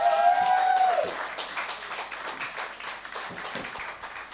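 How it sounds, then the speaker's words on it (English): Audience applause for a singer at a Windrush community event, a steady wash of clapping from the room that starts under a brief sung or spoken tone and carries on at moderate level throughout. "Give her a round of applause"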